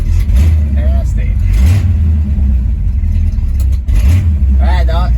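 A 1968 Pontiac Tempest idles roughly and loudly up close, a lumpy uneven low rumble with a few brief blips of revving, while people talk over it.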